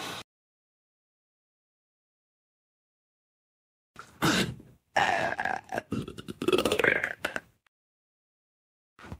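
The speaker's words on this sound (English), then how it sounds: "it makes me want to burp, so I just fucking do it." Hiccup-burps after drinking root beer come as a short opening gulp, a long silence, then a cluster of loud, rough belches and grunting throat sounds, close up, with a final brief burp at the end.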